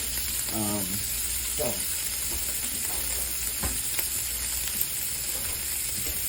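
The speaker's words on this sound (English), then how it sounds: "Now I am rendering down some bacon. It's about 4 or 5 slices of thick cut bacon." Four or five slices of thick-cut bacon fry in a pan, rendering down their fat with a steady, loud, close sizzle and crackle throughout, and a voice is briefly heard over it.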